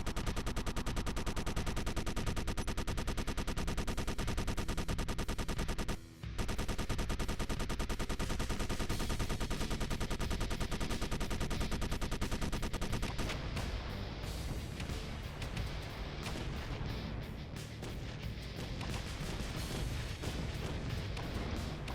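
Heavy gunship cannons in the Space Engineers game blaze in a continuous, loud roar of rapid fire that keeps going, cutting out for a moment before resuming with a rougher, crackling texture.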